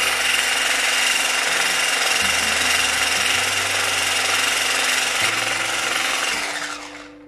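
An electric hand mixer beats egg yolks with sugar for tiramisu, giving a loud, steady motor whir with a rough churning texture that runs continuously before easing off at the end.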